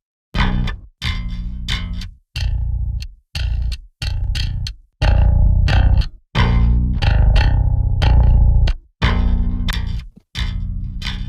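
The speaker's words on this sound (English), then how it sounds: "like going through the distortion" Electric guitar through distortion, with boosted low end and cranked high end giving an aggressive tone; loud chugging chords and short stabbed bursts separated by brief silences.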